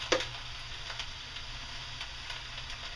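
Ground beef browning in a pan, a steady low hiss of sizzling with a faint tick near the start, quiet and continuous with no talking.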